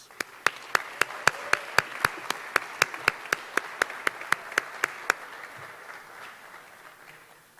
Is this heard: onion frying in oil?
no